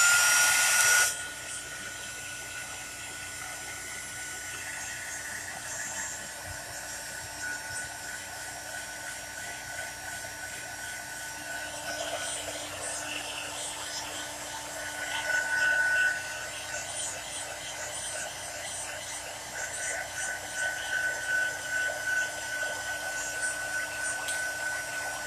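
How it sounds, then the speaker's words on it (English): A heat gun blows hot air in a steady, fairly soft whoosh that runs throughout, with a faint high whine and a few small swells in level. "Now, here we go again with the heat gun."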